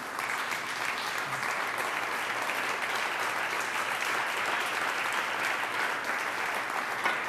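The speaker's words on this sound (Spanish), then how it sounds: "Vamos a ponernos de pie y darle un gran aplauso al Eterno." A church congregation on its feet applauds steadily and loudly, a dense, continuous wash of clapping from many hands that fills the room without a break.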